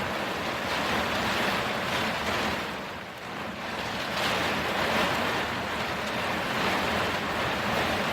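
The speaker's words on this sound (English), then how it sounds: "Every once in a while the wind gusts to rock the camper." Strong wind gusts buffet and rock a camper during a spell of rain, a steady broadband roar swelling and easing, with a brief lull partway through and no talking.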